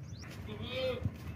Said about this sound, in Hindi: लंबे कानों वाला मक्खी चीना बकरा है